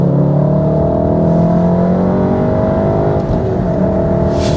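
Volkswagen Golf R MK7 accelerating onto a motorway, heard from inside the cabin as a loud, steady engine drone whose pitch climbs smoothly through the gears over a constant road rumble, with no talking.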